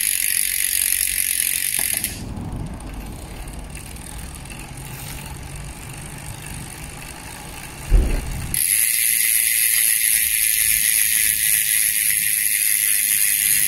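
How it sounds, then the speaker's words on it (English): A bicycle chain freshly treated with WendWax is spun loose, giving a steady close ratcheting whir from the freewheel, broken by a quieter pause and one soft knock before the spinning picks up again. "it's good to just give it a good spin to loosen up the chain"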